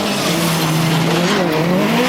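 An autocross race car at Krupina slides through a corner, its tires squealing in a long, wavering, loud whine over a steady engine roar, close and continuous.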